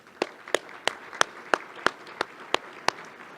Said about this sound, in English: please give yourself an applause